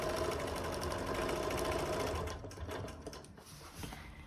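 A sewing machine quilting redwork with a ruler foot runs in a steady, continuous whir for about two seconds, then slows into uneven, softer stitching bursts; no one speaks.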